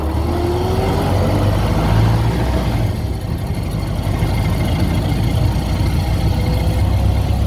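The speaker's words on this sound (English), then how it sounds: "Original engine. Still running." A 1916 Ford Model T car's original engine idles steadily and loudly up close, a deep continuous rumble with a brief dip in its drone partway through.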